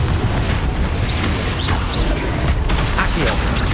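Repeated Confringo fire-blast spells cast in Hogwarts Legacy, a dense stream of booming, crackling impacts with whooshing streaks, loud and continuous with game effects layered throughout.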